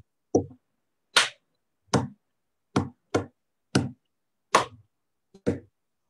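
A student plays a rhythm on a table, mixing finger taps with hand claps: about eight sharp, separate hits spaced roughly evenly over six seconds, a few brighter clap-like strikes among duller thuds, close and clear with no talking.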